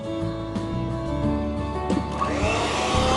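Electric mixer at maximum speed whirring through cupcake batter, a continuous steady motor drone with a rising buzz in the second half, close and alone.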